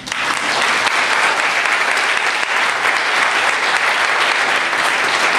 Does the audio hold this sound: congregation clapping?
yes